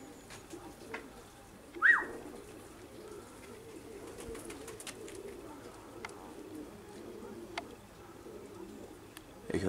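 A pigeon coos softly amid outdoor ambience, with a brief sharper chirp near the start and faint background activity throughout.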